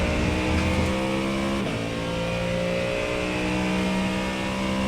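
A GT3 race car engine at Road America drops down to third gear, the revs falling then settling into a steady, loud engine drone heard close up with no one talking.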